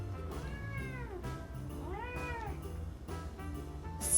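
A house cat meows repeatedly indoors, giving two or three clear rising-and-falling cries close by, with soft household noise underneath and no talking.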